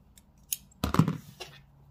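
Scissors snip through thread while sewing a DIY Easter carrot bag: a few short, close cuts, one brief clipping burst followed by a quieter snip, with no talking.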